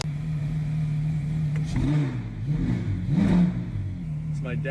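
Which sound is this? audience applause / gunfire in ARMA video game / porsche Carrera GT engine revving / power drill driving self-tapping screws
porsche Carrera GT engine revving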